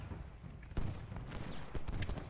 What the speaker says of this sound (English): He has a lot of artillery supporting him.